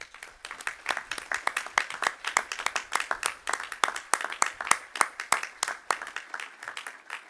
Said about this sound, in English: please let us thank you with our applause